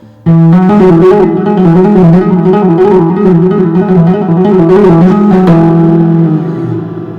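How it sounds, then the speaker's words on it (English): A loud, close electric guitar rings out through a wavering, spacious stereo reverb, sustained notes shimmering before fading at the end. "That is the sound of stereo"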